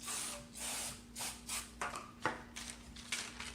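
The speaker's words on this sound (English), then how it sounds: "what I'm going to do is spray my edges" Cooking spray hisses from a can onto the edges of a cake pan in several short, close bursts of varying length, with a faint steady hum in the background and no talking.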